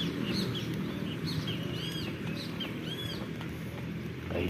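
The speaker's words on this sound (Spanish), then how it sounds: "cantan los pajaritos y nos acompañan para hacer los ejercicios." Small birds chirp and sing in a park on a warm 28-degree November morning, with repeated short whistled calls over a steady low hum of outdoor background noise.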